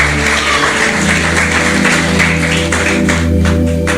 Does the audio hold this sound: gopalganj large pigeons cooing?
no